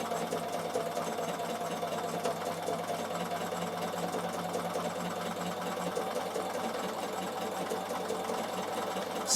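A Bernina sewing machine runs a slow blanket stitch through wool appliqué, a steady mechanical whirr with rapid needle ticking that continues unbroken and close, with no talking.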